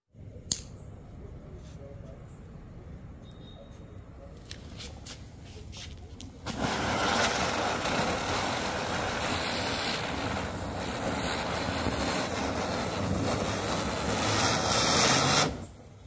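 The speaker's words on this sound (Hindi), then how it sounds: "और ये है लेजेंड ब्रांड की चक्री। तो चलिए इसकी टेस्टिंग करते हैं" A Legend brand chakri firecracker spins on the ground, a loud, dense continuous hiss and crackle that bursts in abruptly after a few seconds of faint background and runs steadily until it cuts off near the end.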